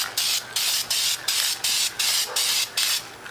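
A spray can lays primer onto a barbecue grill lid in eight quick, even bursts, each a loud close hiss with short gaps in a regular rhythm.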